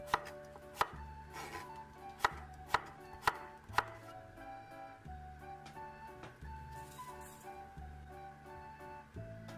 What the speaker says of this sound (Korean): 오이는 반달 썰기를 하고 10분간 절여주어 오도독한 식감과 간이 배이도록 해줍니다